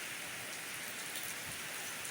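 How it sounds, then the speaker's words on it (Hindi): Heavy rain pours steadily over a village farm field, a dense, even hiss of drops falling without pause and no voices. "इतनी ज़ोरों की बारिश लग चुकी है"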